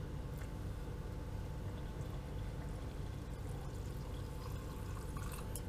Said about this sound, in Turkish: Hemen üzerine oda sıcaklığındaki soğuk suyu ekliyoruz.